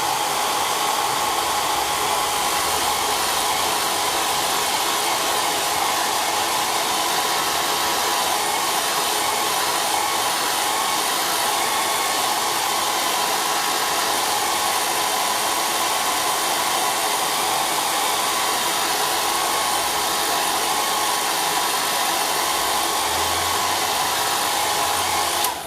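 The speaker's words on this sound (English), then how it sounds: "hairdryer again to get those shadows dry." A hairdryer blows steadily to dry the shadow paint on a painting of a purple door with wisteria, a loud, unbroken whirring roar that holds the same pitch throughout.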